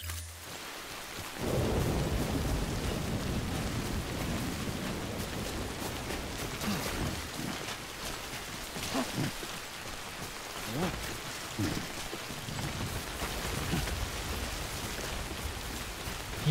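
Heavy rain and rumbling thunder in the video game Death Stranding: a steady, close downpour hiss with deep low rolls and scattered sharper cracks, continuous throughout with no speech.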